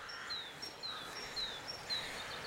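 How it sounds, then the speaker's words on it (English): A blackbird sings near a churchyard in the Yorkshire Dales, several short bright whistled phrases repeating at regular intervals, moderately distant over a soft outdoor background hiss. "We can hear the blackbird, I think, giving it 5 bars on our right"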